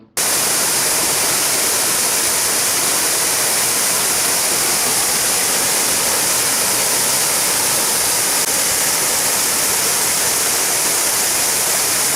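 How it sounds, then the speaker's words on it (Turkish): A mountain waterfall in Kastamonu's İhsan Gazi district, dropping 71 metres from the summit in four separate streams, roars as a loud, constant, dense wash of rushing water with no voices. "şelale, dağın zirvesinden gelerek 71 metre yükseklikten ve 4 farklı gözden çağlıyor"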